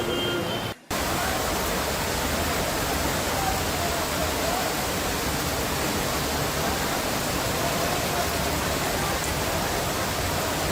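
Heavy rain and floodwater during a cloudburst in Junagadh, with shops flooded, make a dense, unbroken roar of rushing water, loud and close, interrupted only by one brief dropout near the start.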